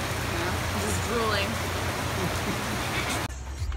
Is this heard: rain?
yes